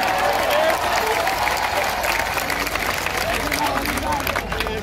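An audience at a kavi sammelan, a Hindi poetry recital at the Chittorgarh Dashahra Mela, applauds in a sustained wash of clapping mixed with crowd murmur and voices.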